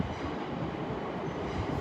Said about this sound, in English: Pulling in over here is another London North Western Railway service.